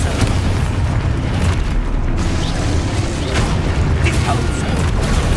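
Expulso blasting-curse explosions and combat in the Hogwarts Legacy video game, with a dense, continuous roar of booms and bursts and a low rumble underneath, loud and steady throughout.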